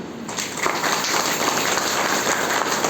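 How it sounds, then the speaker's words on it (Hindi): A large audience at a Brahma Kumaris gathering at Gyan Sarovar claps continuously, a dense, even wash of many hands that sounds almost like heavy rain and starts just after a brief quieter moment. "ताली बजाओ"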